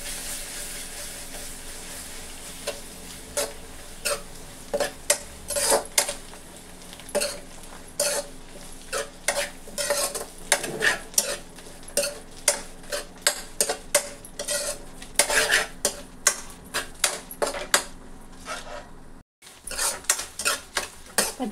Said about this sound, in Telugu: పచ్చివాసన పోయే వరకు అయితే వేయించుకున్నాను కదండి.